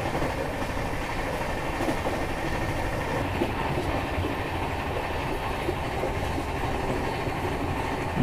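Shatabdi Express train running fast over rail tracks, a steady continuous rumble with clickety-clack from the wheels throughout, close and loud, no talking.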